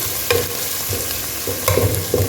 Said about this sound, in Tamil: இன்னும் ஒரு 5 சிக்கன் இருக்குது, ஃப்ரை பண்ணணும்